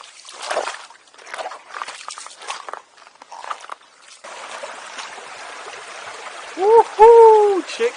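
Water trickling and sloshing over rocks in a tropical creek, close by and uneven at first, then a steadier rush of flow, with footsteps and movement nearby and a short whistle-like cry near the end.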